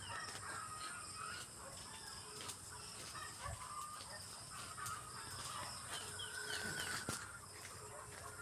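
Chickens cluck and a rooster calls faintly in the background of an outdoor yard under a mango tree, with steady ambient noise and occasional bird calls.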